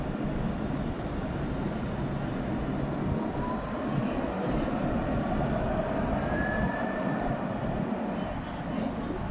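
A tram in Morocco rolls past with a steady rumbling drone and faint rising whine, heard alongside light street noise and occasional voices.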